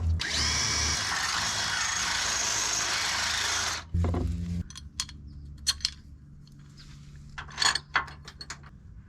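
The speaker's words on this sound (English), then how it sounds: "Now hopefully I can fit my drill in here" A power drill bores through an L bracket while a reverse light is fitted on a 1997 Lexus LX450, running steadily and loudly for several seconds, then stopping, followed by scattered metallic clicks and handling noises.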